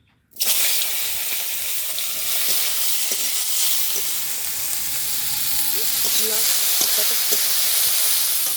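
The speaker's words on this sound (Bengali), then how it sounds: "উচ্ছে আলুটা এদিকে আস্তে আস্তে ভাজা হতে থাকুক" Bitter gourd and potatoes frying in a pan, giving a steady, close sizzling hiss that holds for the whole stretch, with a few faint scraping stirs toward the end.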